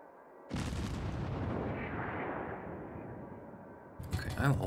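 Naval guns from the cruiser Cleveland in World of Warships fire a loud booming salvo that rolls and fades over several seconds, followed by a fresh sharp blast near the end.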